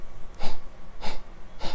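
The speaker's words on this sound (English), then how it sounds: "And then push it out through your nose like this." Three forceful breaths pushed out through the nose, sharp snort-like exhalations evenly spaced about half a second apart, close and fairly loud.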